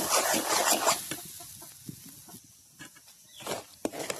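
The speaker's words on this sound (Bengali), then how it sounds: "এইভাবে একটু ফ্রাই করে নেবো" Lentil and garlic mixture sizzles and hisses steadily in a pan for the dish dhoka, loudest at the start and easing off, with a few sharp spoon scrapes and clinks against the pan.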